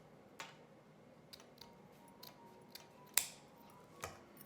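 Scissors snipping ribbon while making a tiered bow, a few sharp close cuts spaced irregularly over a quiet background, the loudest snip near the end, no talking.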